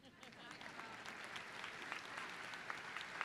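Applause from a crowd in an arena during a university commencement ceremony, continuous clapping building slightly over a few seconds, faint and distant, with voices faintly mixed in.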